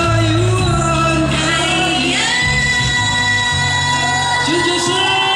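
A crowd at an Amis music festival shouts, whoops and yells loudly and keeps it going, with a sustained sung or chanted tone running through the cheering.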